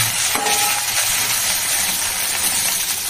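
Hilsa fish frying in a pan, with a steady broadband sizzle that stays loud and continuous throughout, no voices over it.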